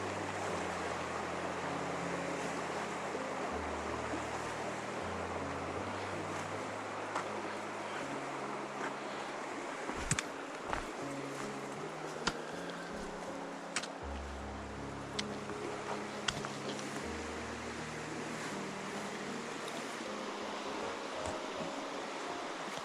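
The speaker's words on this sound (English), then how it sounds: "Just the sound of those streams." Mountain streams flowing along a forest trail near a log bridge, a broad continuous rushing wash of water, steady and fairly close, with a few sharp clicks and low rumbling shifts, no talking.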